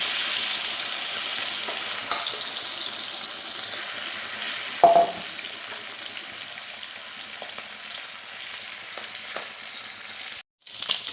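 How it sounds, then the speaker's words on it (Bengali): Small turmeric-and-salt-coated fish frying in oil, a steady close hiss broken by a few louder pops and a spatula clatter near the middle, ending in a brief cut before the sizzle resumes. "মাছটা এখন ভালো করে ভেজে নেব।"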